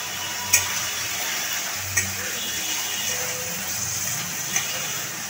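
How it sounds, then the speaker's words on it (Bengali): Water is poured into spice paste for a pomfret curry, and the paste sizzles quietly in the pan with a few sharp clinks of utensil on pot. "মশলাটা ভালো মতন কষে গেছে, এবার দিয়ে দিচ্ছি জল।"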